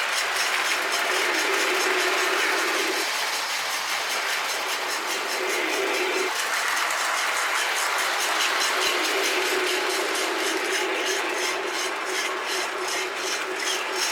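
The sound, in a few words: Lionel Iron Horse model train set running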